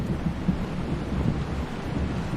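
Heavy rain with thunder makes a steady, dense low roar that holds at the same level throughout, with soft rumbling swells and no clear single thunderclap.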